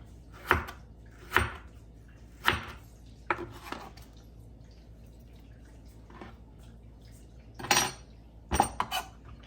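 A knife cuts through pork on a cutting board for a Chinese stir fry, giving about eight sharp, separate knocks and thuds at an uneven pace, close by and without talk.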